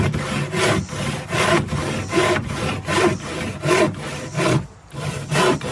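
A hand saw cuts through wood in steady back-and-forth strokes, about ten rasping pulls in a regular rhythm, loud and close with no talking.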